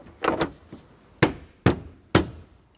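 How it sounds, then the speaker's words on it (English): Plastic clips on a passenger-side knee panel of a Chevrolet Express 3500 van being pushed into their slots: a quick double knock, then three separate sharp snaps, close and distinct with no talking. "It's got clips along the top that need to slide into these slots here."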